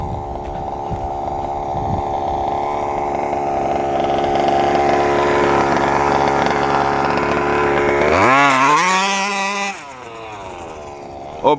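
A 1/5 scale FG RC truck fitted with a 30 to 32cc Robin gas engine in place of the stock 26cc Zenoa, running loud and close with a buzzing two-stroke drone that climbs in pitch and then revs sharply up and down near the end.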